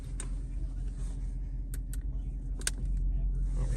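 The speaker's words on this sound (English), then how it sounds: "I'll give it a little rev here" A 2016 Audi S6 Quattro sedan with an Akrapovic exhaust, CTS intake and dynamic mode engaged idles with a steady, deep exhaust rumble. Only slight swells rise over the drone, with no sharp rev peak, and a voice is faintly present.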